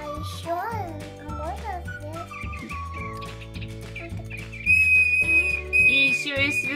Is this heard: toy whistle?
yes